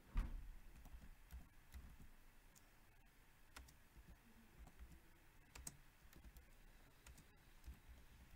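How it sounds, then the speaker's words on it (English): Computer keyboard keys being tapped while typing a command into a command prompt, a sparse run of quiet, close clicks with small pauses between them, no talking. "you're supposed to type this command and press enter"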